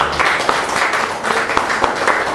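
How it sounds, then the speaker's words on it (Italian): An audience claps for the artists at an art discussion event, a dense, steady round of applause heard up close that carries through the whole moment. "fare un applauso per gli artisti che veramente sono stati veramente bravi"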